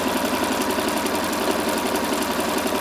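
A sewing machine stitches around the hem of a little blue dress, a close, continuous rapid mechanical chatter with steady needle rhythm throughout.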